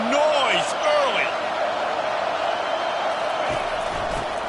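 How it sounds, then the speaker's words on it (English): Football stadium crowd at a Florida Gators versus LSU game, a steady loud roar of voices filling the whole stretch, with a commentator talking over it and brief whoops rising early on. "This crowd bringing the energy and noise early."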